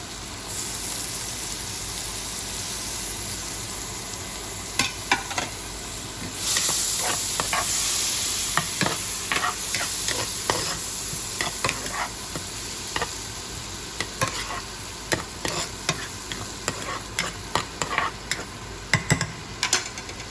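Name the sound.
butter melting and garlic sizzling in a pan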